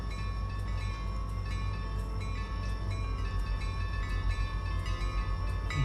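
A freight train headed to the iron mines in the railroad game Railroader rumbles steadily with a low drone, faint tonal bell-like lines and occasional clicks, continuous and unaccompanied by speech.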